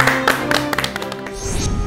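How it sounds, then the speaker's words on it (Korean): An audience welcomes a family medicine doctor onto a talk stage with a few distinct, sharp claps that thin out over a steady tonal background. "큰 박수로 맞아주시기 바랍니다."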